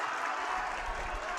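A basketball crowd at a high school tournament game cheers and claps as the home side stretches its lead, a steady, loud wash of roaring voices and applause filling the whole stretch with no pauses.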